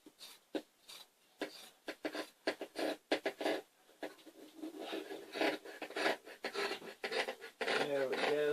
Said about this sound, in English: just cut these strips off and try to cut it straight up